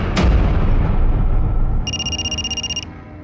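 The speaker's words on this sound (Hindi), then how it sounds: "नवीन, तुम्हारा फोन बज रहा है, लैंडलाइन से" A landline telephone rings in a burst of evenly pulsed electronic trills, heard clearly alone for about a second after a loud thump and low rumble.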